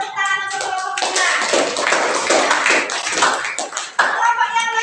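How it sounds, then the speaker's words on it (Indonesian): Classroom students clap for a student group, with brisk, uneven hand claps and taps close by and a voice speaking briefly at the start and near the end. "Tepuk tangan untuk kelompok 5."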